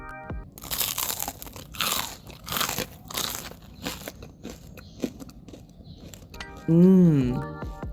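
Bites into crunchy fried Korean croquette bread, a series of loud close crisp crunches and chewing, with a brief voice near the end.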